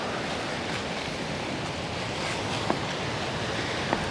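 Sea waves wash steadily against a rocky, undeveloped stretch of coast path near Paphos, a constant loud roar of surf blended with wind noise, with a couple of faint clicks and no voices.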